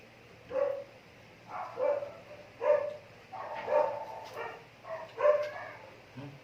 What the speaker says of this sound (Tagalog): Pasensya na po sa mga aso.